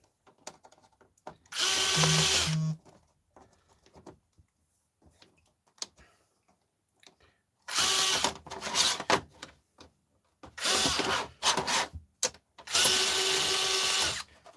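A power drill backs small screws out of an aluminium stand in short bursts: one near whirring run, then three more spaced bursts after a long quiet gap, with faint ticking handling noises between.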